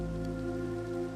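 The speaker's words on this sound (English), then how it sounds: "we are in the night where it's snowing and raining and then back to snowing" Steady rain pattering in a video game at night, where the weather shifts between snow and rain, a dense continuous hiss with a low droning hum running underneath it, fairly loud and unbroken throughout.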